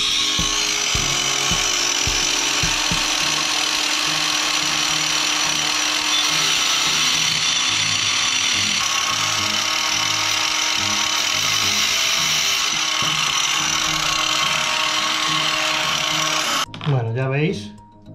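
A LIDL cordless angle grinder runs at maximum speed as it cuts, giving a steady high whine that stays loud and continuous, then winds down at the end.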